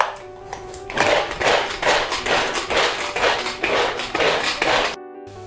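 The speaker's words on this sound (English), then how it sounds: "for which I'm gonna use my manual blender so I don't have to cry." A hand-pulled manual chopper dices half an onion, giving a quick, regular run of about ten whirring, rattling strokes, close and fairly loud, then stopping abruptly.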